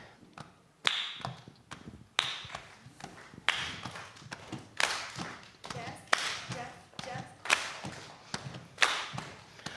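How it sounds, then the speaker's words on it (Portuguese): An audience claps palmas at a family matinee with Brazilian group Grupo Falso Baiano, sharp rhythmic bursts of hand claps in a repeating Baião pattern, rising and falling in loud phrases. "We're going to teach you how to use your palmas, and we're going to teach you a Baião rhythm."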